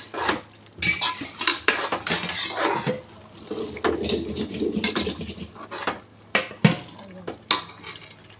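A spoon scrapes and clatters against a pot while mutton is mixed with salt, chilli powder and turmeric for biryani: irregular metallic knocks and scrapes at close range, some sharp, some soft.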